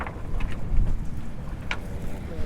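A C-Cat 48 catamaran sails through water in steady wind, with a continuous broadband wash of water and wind buffeting the microphone, a few brief splashes rising out of it.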